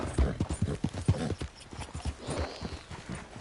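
Rapid clip-clop of horse hooves in Red Dead Redemption 2, steady and close, with a faint whinny-like tone rising briefly near the end.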